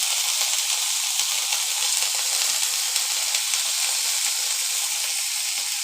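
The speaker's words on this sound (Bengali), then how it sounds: "একটু নাড়াচাড়া করে নিই নুন হলুদ দিয়ে" Snake gourd frying with salt and turmeric in a pan: a loud, continuous hissing sizzle fills the whole stretch, with faint stirring scrapes underneath.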